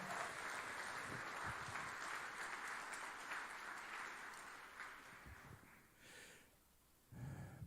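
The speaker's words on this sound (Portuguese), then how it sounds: "Aplauda o nome do Senhor." Church congregation applauding during a Pentecostal-style sermon, steady dense clapping that gradually thins and fades toward the end, with a short renewed burst near the close.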